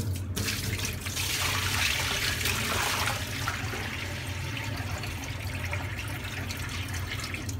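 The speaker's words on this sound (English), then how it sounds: "So we'll go ahead and tip this water out." Boiling water is tipped out of a cooking pot while preparing Persian rice, a continuous loud gushing and splashing pour that runs steadily throughout.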